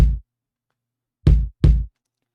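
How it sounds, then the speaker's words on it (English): Kick drum run through a Decapitator tape distortion plugin in P mode, giving a crunchy neo-soul tone: a decaying hit opens, then two heavy, gritty, booming kicks land close together, loud and isolated. "giving it a good amount of distortion with the capitator."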